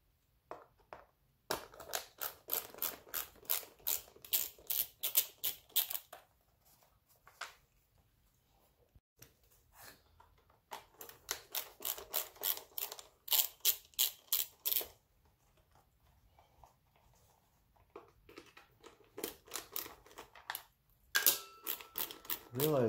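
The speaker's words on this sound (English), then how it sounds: "And we'll get all of the bolts out." A ratchet loosens and spins out bolts on a 2001 Honda CBR 600 F4i motorcycle during tank and throttle body removal, in several bursts of rapid, close clicking separated by pauses.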